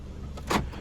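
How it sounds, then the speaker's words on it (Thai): Central locking on a Toyota Vios 1.5E engaging automatically inside the car, a single brief mechanical clunk of the locks snapping shut, close and fairly quiet against a faint cabin hum. "นี่ระบบเซ็นทรัลล็อกจะทำงานออโต้นะครับ"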